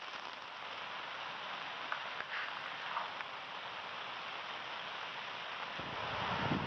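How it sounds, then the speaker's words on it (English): Steady, dense rainfall hisses continuously on surfaces, a constant wash of drops with no pauses and no voices. "It has not stopped raining since it started pouring last night."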